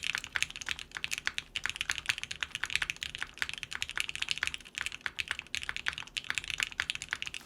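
Fast, continuous typing on a Keycult 2/65 mechanical keyboard with Lavender switches, dense muted clacks close up, steady and unbroken with no talking.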